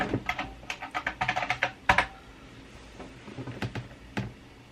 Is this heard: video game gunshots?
no